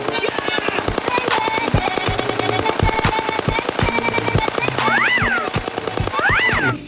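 Rapid electronic toy gun bursts, repeated rat-a-tat firing with rising and falling siren-like tones, loud and close, playing continuously.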